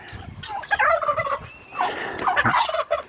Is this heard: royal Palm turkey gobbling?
yes